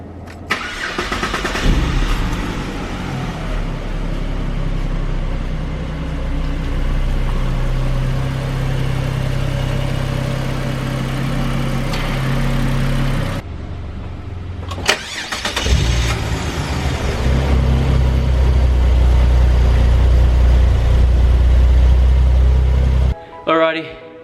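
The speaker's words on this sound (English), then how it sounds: "we're gonna start the car, see if it actually runs" A repaired car engine cranks, catches and settles into a steady idle, then is shut off and restarted, rumbling loud and close before a second crank and idle.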